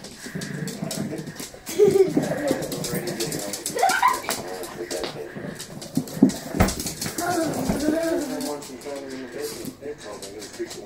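Shih Tzu dogs growl and scuffle while fighting over a slipper, with snarls and yips close by, mixed with people talking throughout.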